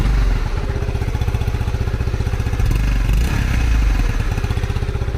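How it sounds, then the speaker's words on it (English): An old single-cylinder motorcycle engine runs close by with a loud, rapid, even thumping pulse and mechanical clatter, steady for the whole stretch with no talking. "Wow, that single cylinder sounds"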